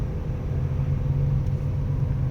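A BMW E36 M3 coupe engine rumbles steadily at close range with a deep, even drone and no clear rise in revs, heard alone for a couple of seconds.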